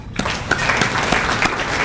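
An audience at a New York State Basketball Hall of Fame induction ceremony breaks into steady, moderately loud applause, a dense clatter of many hands clapping together that continues through the whole short stretch.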